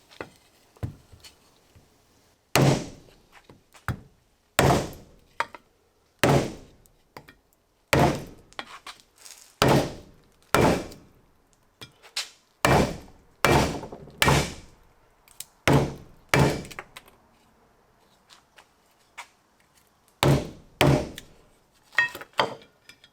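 Heavy hammer blows strike metal again and again in uneven bursts, knocking a wheel stud out of a 1974 Corvette Stingray hub, each hit sharp and loud with short pauses between.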